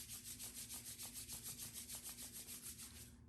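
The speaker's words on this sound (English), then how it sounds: "When you are finished, rub your hands together blissfully." Hands rub briskly together close by, a soft rhythmic swishing of skin on skin repeating about five times a second, faint and steady with no talking.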